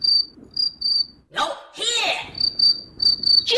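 A cricket chirps in short, evenly spaced bursts, near and clear, broken midway by a stretch of speech before the chirping resumes.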